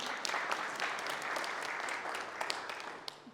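Applause from a congregation inside Gettysburg Presbyterian Church during a tour, steady clapping filling the room at a moderate distance with a few sharper claps standing out near the end.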